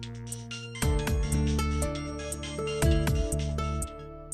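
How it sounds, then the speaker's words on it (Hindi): A melodic phone ringtone plays in a repeating electronic pattern of tones, moderately loud and steady, with no talking. "आपका फोन बज रहा है।"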